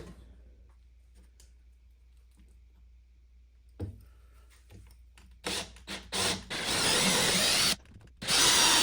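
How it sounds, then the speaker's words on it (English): After several seconds of quiet handling and clicks, a power drill starts up in short bursts, then runs loud and sustained, cutting briefly before resuming, drilling mounting holes for a bench vise on a Husky rolling tool cabinet. "so it's time to start drilling"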